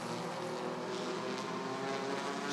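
Stock cars in an eight-lap heat race at Rockford Speedway, a dense continuous engine roar sustained loud and steady throughout, with no talk.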